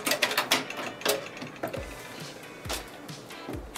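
Sewing machine stitching backward to lock a seam on a quilt block, a close run of quick mechanical clatters and taps in short bursts with pauses between.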